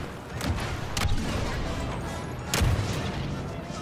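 Grenade blast in the video game Star Wars Battlefront 2, with booming impacts near 0.5, 1 and 2.6 seconds over a dense, continuous battle din of gunfire.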